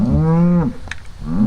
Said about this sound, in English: First cow in the chute.